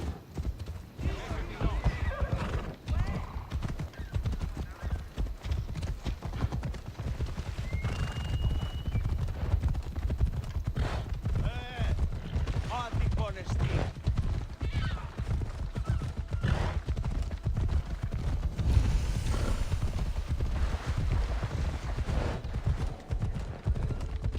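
Horse hooves clip-clop at a gallop with several whinnies in Assassin's Creed Odyssey, a steady rhythmic pounding under game music and ambience, with a person talking intermittently over it.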